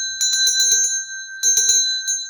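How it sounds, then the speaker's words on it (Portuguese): A notification bell sound effect rings out as two quick bursts of bright metallic dings, several rapid strikes each with a sustained tone, clean and alone. "Aciona o sininho das notificações"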